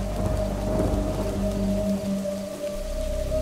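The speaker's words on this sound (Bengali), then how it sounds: "হঠাৎ ঝমঝম করে বৃষ্টি শুরু হলো।" Sudden heavy rain pours down in a Bengali horror cartoon set in a haunted village, a dense steady roar with a low rumble beneath, loud and continuous throughout.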